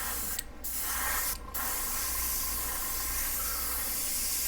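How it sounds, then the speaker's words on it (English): Steady, close hiss of a spray gun spraying black paint onto a black knife, running continuously, with two very brief pauses near the start before the spraying carries on uninterrupted. "we're spraying black on black"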